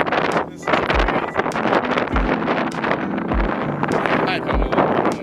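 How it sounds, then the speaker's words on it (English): Strong gusts buffet an outdoor microphone on a country road in crazy winds, a loud continuous roar with heavy low thumps and rustling bursts throughout. "this is about where my microphone stopped working due to the wind"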